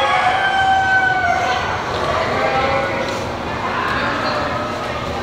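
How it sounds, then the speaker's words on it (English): Chickens in a livestock pen at a strawberry festival cluck and call faintly amid a busy crowd, with people talking throughout and other farm animals nearby. "That's a real big chicken."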